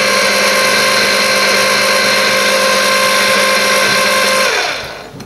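Electric mixer beating pan de coco dough, a loud steady motor whine with a constant pitch that runs for several seconds, then slows and fades as it switches off.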